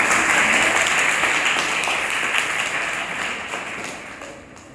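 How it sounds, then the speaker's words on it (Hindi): A large audience in a school hall clapping loudly, dense sustained applause that gradually fades toward the end. "जोर से बजाओ तालियां।"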